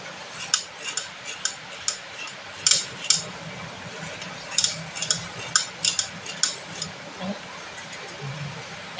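Coconut being grated by hand on a manual grater, sounding as a run of sharp, rhythmic scraping clicks repeated at an even pace, with faint background noise between strokes.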